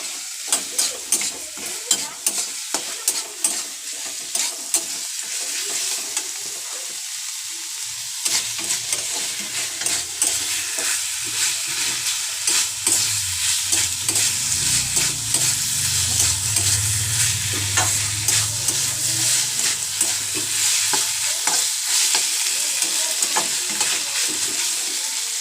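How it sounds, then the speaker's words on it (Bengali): Chicken and fried onions sauté in a pan for curry, a loud, close sizzle broken by frequent scraping stirs and clinks of the spoon against the pan. "এবার আমরা ভেজে নেওয়া পেঁয়াজ আর মাংসটা ছেড়ে দেব। এবার এটাকে আমরা কষিয়ে নেব।"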